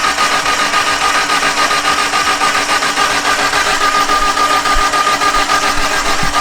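Evo wagon car engine being cranked over, a loud, steady, close mechanical churning that runs without a break and with no talk.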